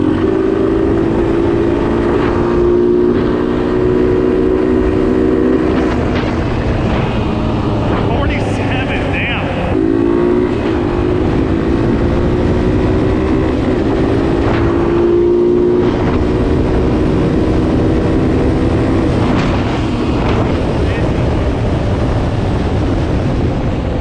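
A diesel tractor runs flat out at around 50 mph, its engine droning loud and close with a steady pitch that dips and picks back up a few times, while someone talks over it.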